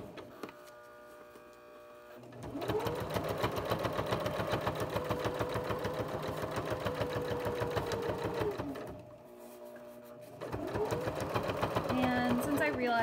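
An old sewing machine stitching thick fleece fabric: a rapid, steady mechanical whirring and clatter that runs for several seconds, pauses briefly, then starts again, close and prominent over quiet background hum.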